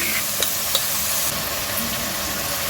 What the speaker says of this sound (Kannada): ಅಕ್ಕಿ ಹಾಕ್ಕೊಂಡ್ಮೇಲೆ ಚೆನ್ನಾಗಿ ಮಿಕ್ಸ್ ಮಾಡ್ಕೋಬೇಕು.